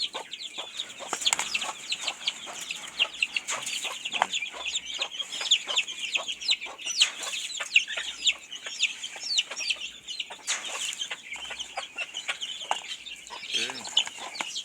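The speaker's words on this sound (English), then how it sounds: "I see look at chicken there." Jamaican game fowl chickens cluck and chatter continuously in a yard, many close, busy calls overlapping throughout, with a rooster-like cry near the end.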